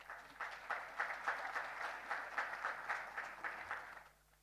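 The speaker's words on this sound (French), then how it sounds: "la FENIP mérite encore un autre tour d'applaudissements" A crowd at a closing ceremony gives FENIP another round of applause: dense, steady clapping with gentle rhythmic swells that fades out at the end.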